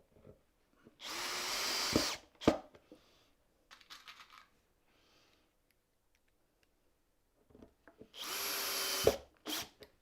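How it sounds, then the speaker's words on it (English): A power drill drives screws into a wooden keepsake box frame in two separate bursts of whirring, each ending with a sharp click, with faint clatter and handling noises between them and no talking. "Just going to put a couple of screws in this one."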